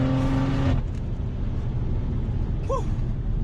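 A BMW M240i fitted with a big turbo making about 650 wheel horsepower pulls hard through fourth and fifth gear, its loud engine roar and rumble filling the cabin with a brief shift near the start.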